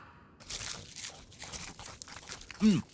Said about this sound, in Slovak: Tento mesačný syr je veľmi chrumkavý.